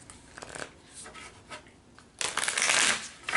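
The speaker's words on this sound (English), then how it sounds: "Just a couple more shuffles." Tarot cards being shuffled close up: soft riffling and rubbing, then a louder, dense flurry of shuffling near the end.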